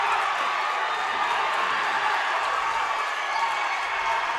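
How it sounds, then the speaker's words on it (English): A high school varsity basketball crowd in a gym roars after a dunk, a steady, loud wash of cheering and noise that holds without a break. "As the crowd goes crazy."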